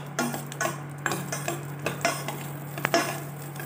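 Garlic sautéing in cow ghee in a pan gives a soft sizzle under a steady low hum, broken by frequent spoon scrapes and clinks against the metal.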